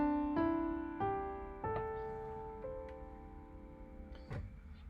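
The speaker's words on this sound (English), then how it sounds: "Pentatonic scales sound very open" A pentatonic scale played on a pitched instrument: about six clear notes struck one after another, each ringing and slowly decaying, moving steadily upward with no voices.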